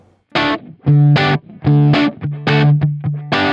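An electric guitar plays bright jangly chords through a Dumble-style amp with a touch of drive, five or six strummed bursts with short gaps between, loud and up close, with no voices.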